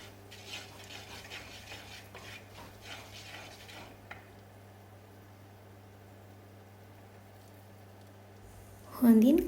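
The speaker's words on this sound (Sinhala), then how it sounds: "අපි රම්පේ කරපිංචා අවශ්‍ය ප්‍රමාණයට යොදලා හොඳින් කලවම් කරගන්න ඕන" A spoon stirs a mushroom curry mixture with rampe and curry leaves in a pot, giving soft, faint scraping and rubbing through the first few seconds, then quiet, with a brief louder clatter at the very end.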